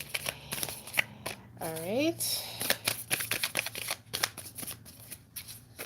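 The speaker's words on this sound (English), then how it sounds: "One more shuffle." Tarot cards being shuffled by hand, a run of quick papery riffles and crisp flicks close by, with a person speaking briefly over the shuffling.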